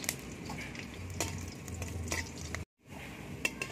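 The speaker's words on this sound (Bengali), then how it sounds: "আমি লঙ্কাটা ভেজে নেব, শুকনো লঙ্কাটা" Dried red chillies fry in a little oil in a wok, giving a steady, close sizzle with scraping stirs and clinks, then a brief silent gap before the frying resumes.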